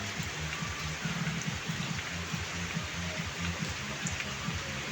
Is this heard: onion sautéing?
no